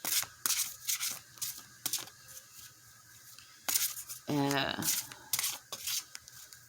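Bursts of tarot cards being riffled and shuffled, close and crisp, in irregular snaps, with a voice speaking briefly partway through.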